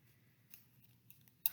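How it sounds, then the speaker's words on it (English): Good scissors snipping through recycled craft material for a fall scarecrow wreath, a few quiet scattered cuts with a sharper, louder snip near the end over a low background hum. "I am gonna cut the rest with good scissors."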